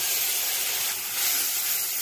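Whole spices hitting hot oil in a pan with softened tomato, giving a loud, steady hissing sizzle heard up close and alone for a couple of seconds.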